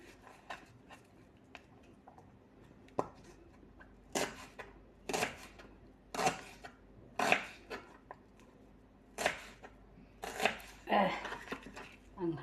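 A knife chops onion and vegetables on a board in a dozen or so sharp, irregular strikes, quiet and close, with a person talking softly between cuts.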